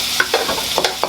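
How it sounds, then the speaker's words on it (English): Minced ginger sautéing in a pan over medium heat for stir-fry Shanghai noodles with shrimp, a steady close sizzle broken by a few quick scrapes of stirring. "allow it to saute for 1 minute"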